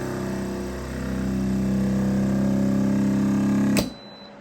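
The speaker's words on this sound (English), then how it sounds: "Turn this over to seal and hit the auto vac and seal button for 2 seconds." A vacuum sealer runs its auto vacuum-and-seal cycle on a canister of noodles, giving a steady close motor hum that rises slightly, then cuts off sharply with a click near the end.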